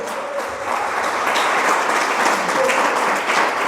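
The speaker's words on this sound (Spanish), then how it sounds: "Hermano, denle un aplauso" Applause from a church congregation during a sermon, a loud dense burst of clapping from many people, sustained and even throughout the short stretch.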